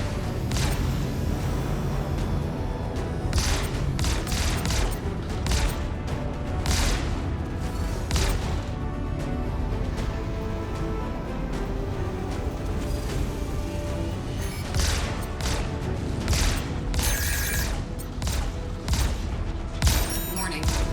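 Energy weapons on an Anvil Hawk combat ship firing in the Star Citizen game, a dense run of rapid, loud bursts with sharp zaps and booms layered over a steady engine rumble throughout.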